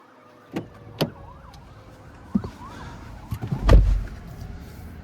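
Faint, muffled emergency vehicle sirens wail outside a 2024 Chevrolet Equinox LT, heard from inside the closed cabin, with a few soft thumps and knocks nearby.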